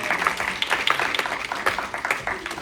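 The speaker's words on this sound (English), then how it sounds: "But one more time, give Josh another round of applause." Steady crowd applause with dense, overlapping claps, fairly loud and sustained throughout.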